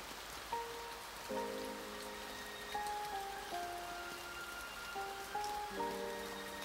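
Rain hisses softly and continuously beneath a gentle, slow melodic tune in the Dreamcast visual novel Kimi ga Nozomu Eien, with no voices heard.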